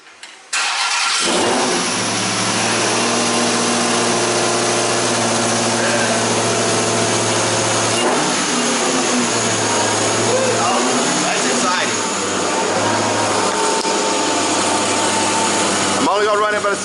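A newly installed supercharged car engine cranks, catches and settles into a loud, steady idle with a few small revs, running close up for over fifteen seconds while people talk faintly.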